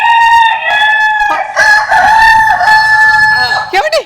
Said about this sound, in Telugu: ఎక్కడ కోడి సౌండ్ అండి?